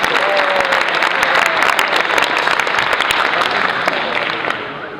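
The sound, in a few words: audience applause at awards ceremony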